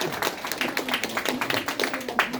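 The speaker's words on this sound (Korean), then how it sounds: "여러분 박수 한번 주십시오." An audience at a lecture claps, with fairly brisk, uneven clapping from a modest number of hands that carries on steadily at moderate volume, close by, for the whole clip.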